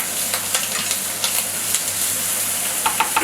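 Bacon, mushrooms and vegetables fry in a pan for an omelet, a steady crackling sizzle with occasional sharper pops and light stirring scrapes, close and continuous with no talking.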